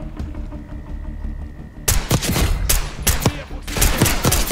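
Gunfire in the video game Call of Duty Black Ops 6, a quiet stretch of ambience broken by sudden loud bursts of rapid shots, a few clustered volleys close up with short pauses between them.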